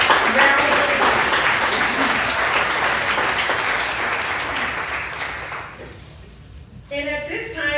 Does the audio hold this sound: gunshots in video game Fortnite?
no